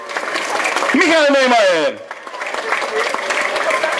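Crowd applause for ski jumpers at the 2013 Summer Grand Prix bib-number ceremony in Wisła: a continuous wash of clapping runs underneath as an announcer loudly calls out over it, then carries on alone.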